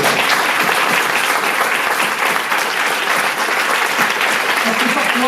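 An audience applauds during a motivational conference talk, with loud, dense clapping sustained throughout and some voices mixed into the crowd noise.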